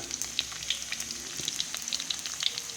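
Garlic fries in hot oil in a pan while cabbage fried with fish sauce is being made: a steady, soft, crackling sizzle with fine spits and pops, heard alone and fairly faint.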